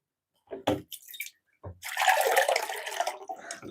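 Cool water poured into a pineapple wine mixture, a few short splashes followed by a sustained, close pouring gurgle for over a second, fairly quiet overall.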